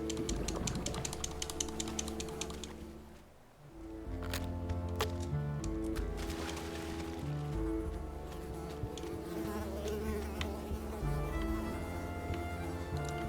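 Mosquito buzzing in the video game Unravel: a steady, continuous insect-like hum with clicky bursts layered over game music, dropping briefly near the start before resuming.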